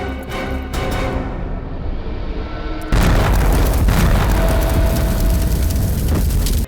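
A blast in a highway crime scene: a sudden broadband burst of noise cuts in after a quieter rumbling stretch and then sustains as a loud, dense roar with crackling debris, no voices present.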